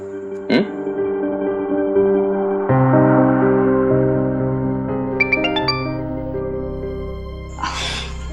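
A short chiming mobile phone message alert rings out late at night over a sustained musical drone, a bright cluster of rising tones that fades quickly.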